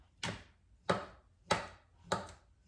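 A knife slices through sweet potatoes on a cutting board for a corn casserole, four evenly spaced crisp thunks about half a second apart, close and fairly quiet.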